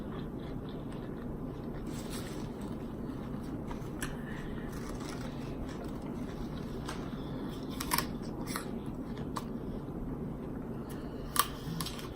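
Fruit being eaten up close in a mukbang-style setting, with soft wet chewing and occasional sharp crunchy bites over a steady low background hum; no talking.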